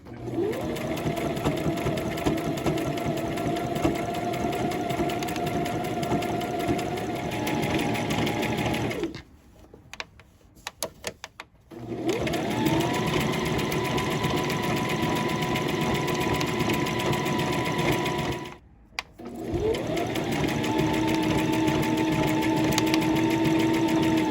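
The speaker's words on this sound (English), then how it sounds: "you would stitch again 1/4 of an inch away from this original stitching" A sewing machine runs a seam on joggers in three long bursts of steady motor hum and rapid needle clatter, broken by two brief pauses.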